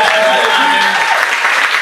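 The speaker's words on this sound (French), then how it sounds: "on applaudit encore Joker" An audience applauds a comedian at the close of a French-language comedy show, a short loud burst of clapping with a speaking voice over it.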